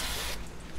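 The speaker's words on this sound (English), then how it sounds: "spraying it, coating it with this oil each time is way better" A short burst of cooking oil spray hisses onto a frying pan where bananas are being fried, loud and close, cutting off abruptly with a faint kitchen background after.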